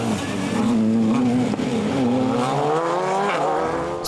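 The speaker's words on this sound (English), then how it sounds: "Here's the Skoda Fabia of Joseph McGonigal and Kieran Geeney" A Skoda Fabia rally car races along a tarmac stage at the Killarney Rally of the Lakes, its engine loud and close as it revs hard, shifts and climbs, with a brief tyre squeal in a continuous pass.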